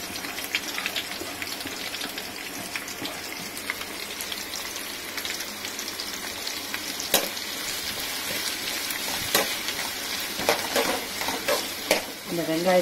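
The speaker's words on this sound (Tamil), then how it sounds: "இந்த வெங்காயத்தை போட்டு வெங்காயம் கொஞ்ச நேரம் வதங்கணும்." Chopped onions fry in oil spiced with whole spices for biryani, a steady crackling sizzle punctuated by scraping stirs and clinks of a spoon against the pan.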